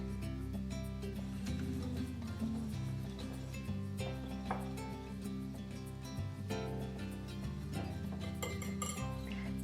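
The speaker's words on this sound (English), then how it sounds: "some cinnamon, and some baking powder and salt. I'll whisk this together." A whisk clinks rapidly and steadily against a bowl while blending whole wheat flour, cinnamon, baking powder and salt, a quiet, close, continuous metallic rattle heard alone.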